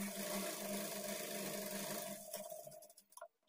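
A sewing machine runs steadily, stitching plain blouse pieces with a continuous close mechanical whir that slows and stops near the end.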